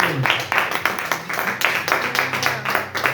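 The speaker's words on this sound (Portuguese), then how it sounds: "Vamos receber então, irmão Gilson, com as palmas bem alegres ao Senhor Jesus." A church congregation at a Bible school gathering claps in a brisk, joyful rhythm to welcome a brother to the front, sharp distinct beats close by with a faint voice underneath.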